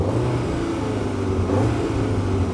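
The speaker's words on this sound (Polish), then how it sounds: "Taki basowy, głęboki pomruk i pięknie jednak te 8 cylindrów tutaj chodzi." Cupra Leon sports car engine revving steadily with a deep bass rumble and a throaty, even drone, loud and close, with no talk over it.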